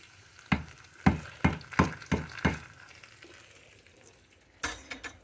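Lentils and tempering spices dropped into hot oil for a South Indian lunch of spinach dal, six sharp crackling pops in quick succession, then a quiet sizzle and one more burst near the end, close and clear with no talk.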